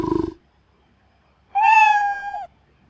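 A cat meow plays as a sound effect in a Scratch program: one clear, drawn-out meow of about a second, preceded by a brief voice and a quiet gap.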